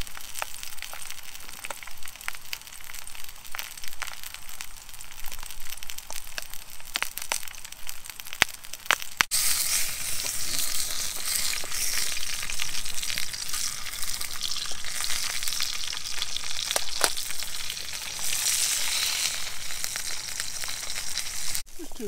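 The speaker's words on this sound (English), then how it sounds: "it's just too wet, so gonna cook it in a little pan" Sausages sizzle in a small pan outdoors on a wet winter woodland camp, a steady crackling fry that swells louder partway through and carries on alone.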